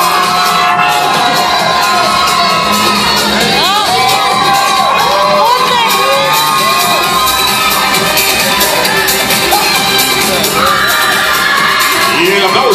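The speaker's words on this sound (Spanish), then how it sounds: "aplauso también" A pageant audience roars with loud, sustained cheering and shouting, including high excited voices, a dense crowd wall of sound that never lets up.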